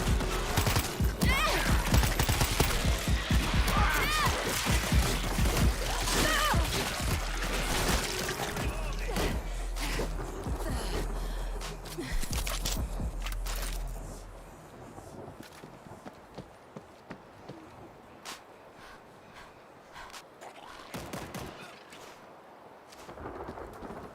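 Rapid gunfire in the World War Z zombie shooter game: dense, loud volleys of shots over a steady low backing for about fourteen seconds, then thinning to scattered, quieter single shots.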